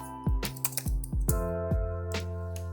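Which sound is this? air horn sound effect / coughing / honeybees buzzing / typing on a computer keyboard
typing on a computer keyboard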